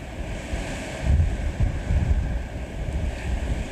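Strong Hurricane Dorian wind gusts roar and buffet the microphone in surges on the Carolina coast, with a low rumbling rush like surf underneath and no voices.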